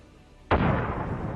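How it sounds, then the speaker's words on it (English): A grenade blast on an abandoned Russian tank fitted with dynamic protection and an EW system: one sudden, loud explosion that breaks off the quiet and rolls into a long, rumbling roar. "After the grenade explosion"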